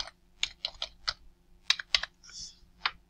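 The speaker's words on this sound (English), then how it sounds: "type in your email address, and then put your password in" Someone types an email address and password on a computer keyboard, a run of crisp, close keystrokes in short bursts over steady low hum.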